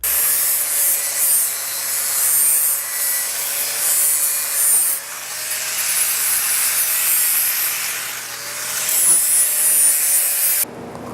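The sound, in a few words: abrasive grinding tool refining cast bronze chock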